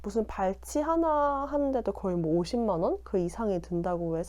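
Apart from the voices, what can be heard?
No everyday noises stand out.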